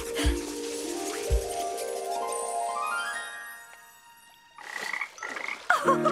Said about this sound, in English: Still not found your family, little frog?